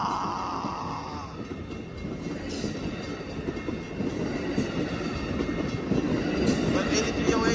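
An Amtrak Capitol Corridor passenger train rumbles past a railroad crossing at 105th Avenue, a steady close roar with rhythmic wheel clatter building louder toward the end, while someone talks over it.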